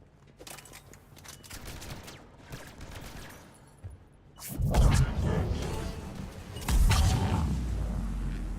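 Gunfire in the Mass Effect 3 video game: rapid cracking bursts from several weapons, moderate at first, then a louder, denser barrage with heavy low booms through the second half.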